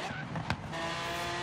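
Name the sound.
Lamborghini Aventador driving fast in video game Forza Horizon 3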